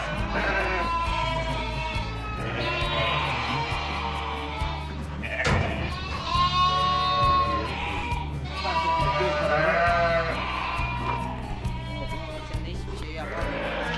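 Sheep in a barn on a sheep farm bleat repeatedly while they are treated one by one for internal and external parasites, with a busy, close chorus of overlapping calls, a thud midway and people talking throughout.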